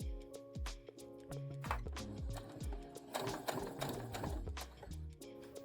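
A sewing machine runs a long straight gathering stitch on fabric, a quiet rhythmic clatter of needle strokes with a low motor drone, steady and close.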